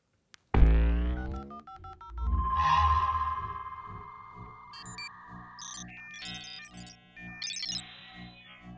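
Sci-fi intergalactic phone in a comedy short: a sharp start, a descending series of tones, then a run of electronic dialing beeps and warbling ring tones, loud and close with no talk.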